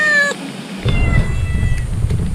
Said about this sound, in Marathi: स्वरांजचं मांजर उठलेलं आहे